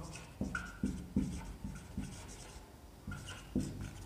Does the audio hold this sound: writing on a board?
yes